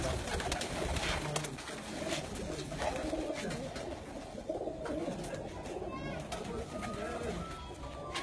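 Pigeons cooing on a rooftop in Kharian, a steady low murmur of calls running throughout amid background noise, with voices talking over it.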